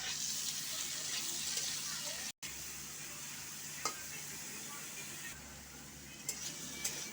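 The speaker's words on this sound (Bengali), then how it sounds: "লাউটা ভেজে নিচ্ছি।" Diced bottle gourd fries in oil tempered with dried red chilli, giving a quiet, continuous sizzle with an occasional faint scrape, heard close, broken once by a short dropout.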